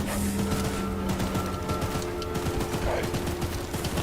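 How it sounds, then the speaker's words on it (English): A mounted gun fires in Choo Choo Charles, a dense, continuous stream of loud, rapid shots over steady rumbling game noise throughout. "Can't let the gun overheat, though."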